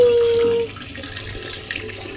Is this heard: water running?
yes